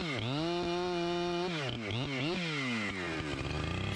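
A Husqvarna 592 XPG chainsaw with a 28-inch bar runs continuously and loudly up close, its engine pitch dipping and surging as the throttle shifts while cutting, with no voices.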